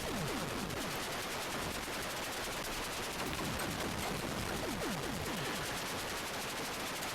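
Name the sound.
shooting bullets in Warhawk, Atari 8-bit video game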